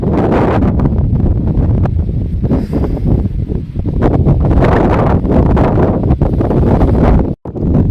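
Strong, steady wind over a cotton field after rain buffets the microphone, a loud roaring rumble with gusty rustling that barely lets up for the whole stretch.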